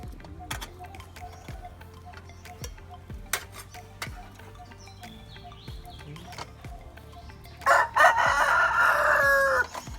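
A rooster crows loudly near the end, a long drawn-out call, after a stretch of low background noise and scattered knocks.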